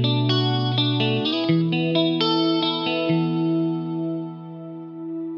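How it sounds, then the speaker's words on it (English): Electric guitar run through an Axe-Fx delay effect, a few picked notes and chords followed by echoing repeats that trail off and fade, heard alone and fairly loud. "Now I'm gonna turn on the delay and you'll hear that it just kind of thickens everything up with these repeats."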